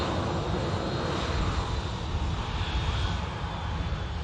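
Engines of an Airbus airliner just arrived from Oslo at Manchester Airport, a steady broadband roar that holds at an even level throughout without a break.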